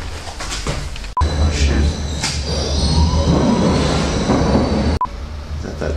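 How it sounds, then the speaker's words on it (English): A train rolls past on the railway during an Interrail graffiti trip, a loud continuous rumble with wheel and carriage noise, two sharp cuts breaking it, and people talking nearby. "I think there's another train coming."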